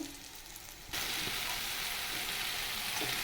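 Small fish with bitter gourd start frying in a pan, a sudden jump from quiet to a loud, steady close-up sizzle that continues to the end, with no voices.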